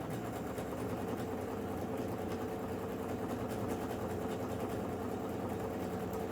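A sewing machine runs steadily with a low, continuous mechanical hum and whir, sounding like a motor idling, with no pauses or voices over the full stretch.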